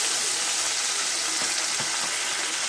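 Onions and green chillies frying in oil with mustard seeds and fennel, a loud, close, continuous bright sizzle with no talk over it.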